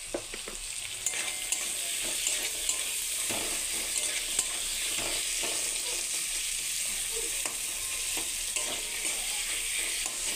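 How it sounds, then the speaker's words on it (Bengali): Egg curry masala cooks over a low flame in a pan, with a steady hiss and sizzle and a spoon stirring and scraping in an even, unbroken rhythm close by; no voices. "লাহে আঁচ দিয়ে 5 মিনিট সময় নাড়তে থাকুন"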